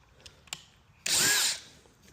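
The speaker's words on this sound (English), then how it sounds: "put in a small countersink." A power drill cuts a small countersink into a PVC replacement board for an Adirondack chair, one short high whir of about half a second after a few faint taps, close and loud.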